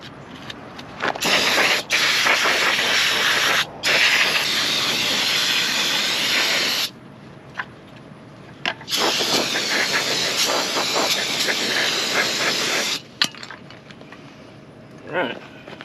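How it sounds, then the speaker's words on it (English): Brake cleaner is sprayed onto electric brake parts for an enclosed camper trailer in several long, loud hissing bursts with short pauses between them, close by, as someone speaks briefly. "a little brake clean time here"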